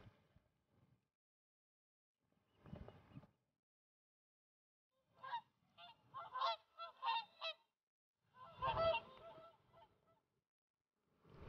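Whooper swans that have flown direct from Iceland call in a few short bursts of honking, some single and some in quick clustered notes, fairly faint and spaced by silence, with no talk.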